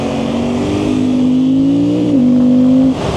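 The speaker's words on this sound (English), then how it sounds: "the exhaust definitely still has an exhaust note to it" A Suzuki GSX-8R motorcycle on its stock exhaust, with a flashed ECU, revs under acceleration with a steady, droning exhaust note that climbs slowly in pitch. It dips briefly and then drops off near the end, loud and close.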